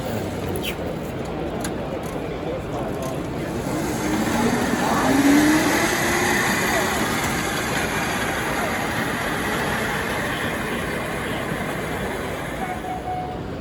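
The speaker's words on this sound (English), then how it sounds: "Now I got a bit closer to the miniature railway." A miniature model railway runs at a large railway modelling exhibition hall, a steady rumbling and whirring drone under the broad murmur of a crowd, with no distinct voice standing out.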